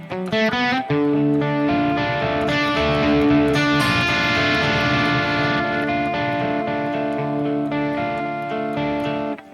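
Electric guitar played through a Harley Benton DNAfx GiT Pro multi-effects unit with the distortion switched off, ringing sustained chords with a touch of reverb, steady and full for the whole stretch.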